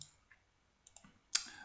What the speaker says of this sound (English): clicking with the right mouse button,